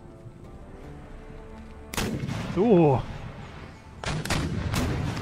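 Musket and artillery fire in Empire Total War thunders over a low battlefield rumble, first one heavy blast, then a cluster of sharp cracks, with a man's brief exclamation in between.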